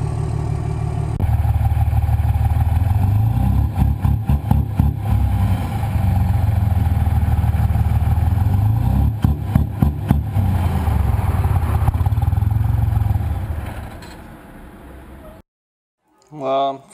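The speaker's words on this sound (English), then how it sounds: "it's bouncing off the rev limiter" A Cummins diesel engine, being tuned with launch control, revs hard and bounces off its rev limiter, a loud sustained drone with repeated stuttering cuts, then drops away near the end before a voice speaks.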